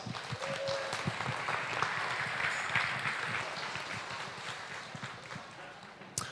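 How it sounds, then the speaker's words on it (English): Steady applause from an audience at a county fair beef cattle show, a broad even wash of clapping that carries on throughout, with faint voices mixed in. "Let's give them a nice round of applause."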